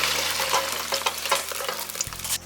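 A Teochew fruit-and-meat fritter deep-fries in bubbling oil, crackling and spattering close by in an uneven sizzle with a low steady hum underneath.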